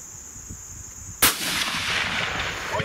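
A long-range rifle shot cracks sharply once and loud, followed by a sustained broadband rush and echo rolling across open ground, with a faint high tone underneath before the shot.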